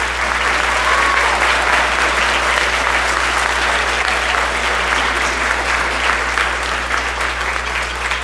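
A school concert audience gives a steady, dense round of applause for an award recipient, many hands clapping evenly and loudly throughout with no pause.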